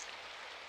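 Heavy rain from the video game Symphonic Rain, a dense, even hiss of big drops pouring down without pause, alone and fairly quiet.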